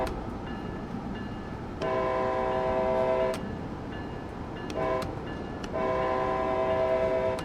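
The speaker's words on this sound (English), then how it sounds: "as you approach the bridge, we'll whistle" An Amtrak locomotive horn sounds in the Train Sim World 4 game on the Trenton to New York run while approaching a bridge: a long blast, a short one, then another long blast over the steady rumble of the running train.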